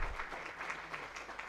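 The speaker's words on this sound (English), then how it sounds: "Let's clap to this young lady." Audience applause at an agricultural conference gathering, a faint, dense, steady clapping throughout the short moment.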